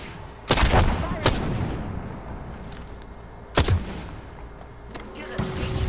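Gunfire in the video game Apex Legends: a few sharp, loud shot bursts spaced a second or more apart over a busy background of game sounds, with faint voice chat.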